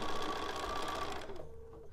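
A sewing machine runs fast and steadily as it stitches fabric guided by an edge guide and stiletto, a close whirring hum that stops abruptly near the end.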